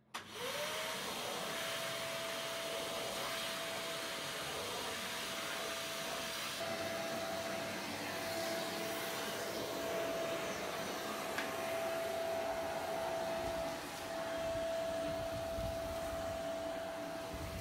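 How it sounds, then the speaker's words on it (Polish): Vacuum cleaner running on an off-grid solar power system at a hillside plot in Italy, a steady loud motor whine with constant hum that holds throughout, with slight shifts in pitch as it moves. "No i zobaczymy, ile będzie pobierał odkurzacz."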